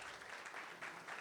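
An audience at a sales talk claps together in a brief, dense burst of applause that carries on through the moment.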